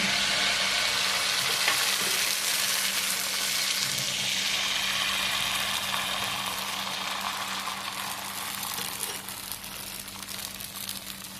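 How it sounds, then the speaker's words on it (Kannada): Bottle gourd dosa batter sizzles in oil on a hot pan, a loud, steady hiss of frying that holds for the whole stretch and fades slightly toward the end, with no voices. "ಸ್ವಲ್ಪ ಎಣ್ಣೆ ಹಾಕ್ತೀನಿ ದೋಸೆ ಇಡ್ತೀನಿ"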